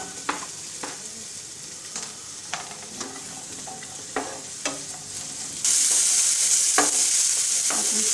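Onion frying in a spoonful of oil in a pan, a steady close sizzle broken by repeated sharp stir-scrapes, the hiss swelling louder partway through as the pan heats.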